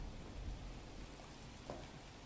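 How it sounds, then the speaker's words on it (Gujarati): Heavy monsoon rain pours steadily in Valsad district, Gujarat, a dense constant wash of noise with a couple of brief brighter splashes, no voices. "વલસાડ જિલ્લામાં ધોધમાર વરસાદ, ભારે વરસાદને કારણે હાઈવે પર પાણી ભરાઈ ગયા છે"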